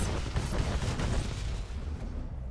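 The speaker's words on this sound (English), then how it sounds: "I love a good explosion." A big explosion in the video game Star Wars: The Old Republic (SWTOR) during a stealth-ship mission: a booming, rumbling blast that rolls on with crackling debris before fading, heard alone without talk.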